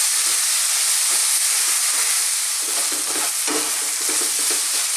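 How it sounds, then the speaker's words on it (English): Tuna and bean chili fries in a pan over medium to medium-high heat while being stirred constantly, giving a steady loud sizzle with scraping stir strokes throughout. "cook this for about 3 to 4 minutes on this medium or just above a medium heat, stirring all the time"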